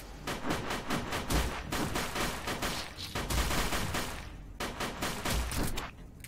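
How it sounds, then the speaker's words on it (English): Rapid gunfire in the video game UFO: Afterlight, with continuous bursts of shots rattling at a fast, steady rhythm, briefly easing once before resuming. "I'm under fire!"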